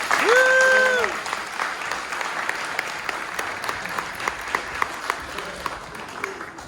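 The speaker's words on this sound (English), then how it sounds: "Can we give him a round of applause?" Audience at a mental health and suicide performance breaks into applause, opening with a brief tonal sound, then settling into steady, fairly close clapping with some individual claps standing out.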